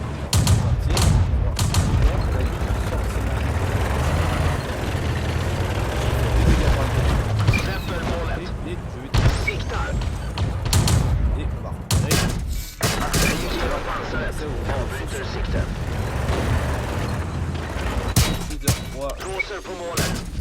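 Heavy tank cannon booms and gunfire from a Swedish L60 tank sound throughout a video game battle, with a voice talking over the steady rumble.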